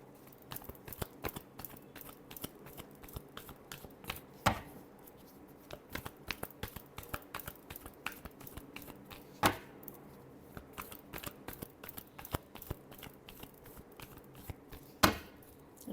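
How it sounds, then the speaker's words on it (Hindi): Tarot cards are shuffled close by in a steady run of quick crisp riffles and slaps, with a few louder taps as the deck is squared. "last shuffle"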